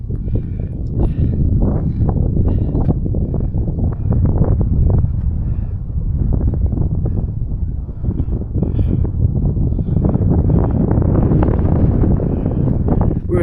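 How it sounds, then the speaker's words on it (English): Strong wind buffets the microphone at a scenic viewpoint, a loud continuous low roar with gusty surges that persists throughout. "I don't think you'll be able to hear me because of the wind"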